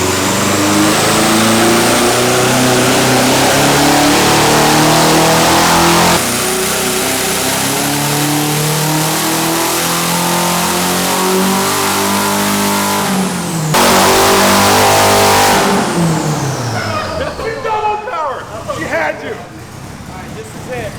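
Quad-turbo car engine revving hard on a dyno pull, a loud sustained roar climbing in pitch, dropping and climbing again before backing off at the end, with people talking excitedly underneath.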